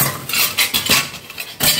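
Metal ladles clatter and clink as they are handled, several bright, close metallic knocks spread unevenly over two seconds with no talk.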